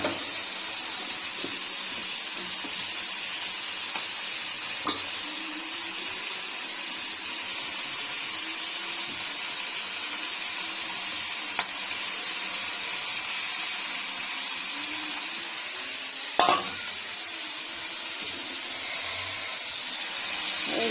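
Spinach sizzles in a hot pan alongside already-fried vegetables, a loud, steady hiss of steam that runs unbroken throughout, with a few sharp clicks and taps from the pan.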